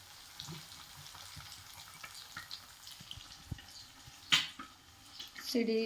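Egg bondas frying in hot oil, a steady soft sizzle with scattered small pops, one sharp spattering crack, and a louder bubbling surge at the end, with voices nearby.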